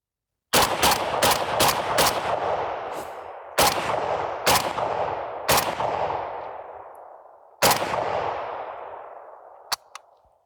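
An AK-47 rifle fired outdoors on private land: a rapid burst of five loud cracks, then single and paired shots, each ringing out in a long echoing decay. A last sharp shot and a faint metallic ping close the sequence.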